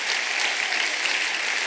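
A church congregation applauds in a dense, steady wash of clapping that stays loud and even throughout, with no talking over it.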